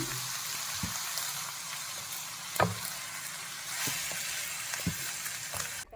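Carrot and drumstick flower thoran cooks in a pan on medium flame with a soft, steady sizzle, broken by occasional scrapes and taps of a stirring spoon.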